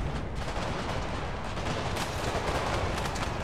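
Dense, continuous cannon and musket fire crackles and booms in an Empire: Total War battle, a steady wall of overlapping gunshots with louder volleys rising through it.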